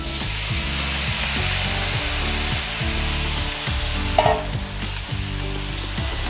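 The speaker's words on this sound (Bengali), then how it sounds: "এবার আমি হাতে মেখে রাখা সবজিগুলো এর মধ্যে ঢেলে দেব" Vegetables mixed by hand tipped into hot oil with a nigella seed tempering, giving a loud, continuous close-up frying sizzle with rhythmic scraping strokes of a spatula throughout.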